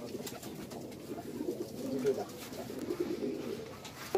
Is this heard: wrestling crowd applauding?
no